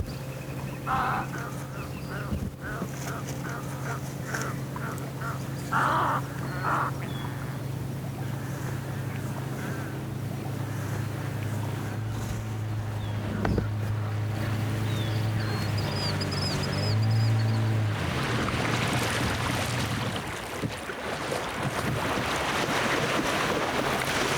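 A boat motor hums steadily while crossing a large lake, with wind buffeting the microphone and occasional splashes of waves.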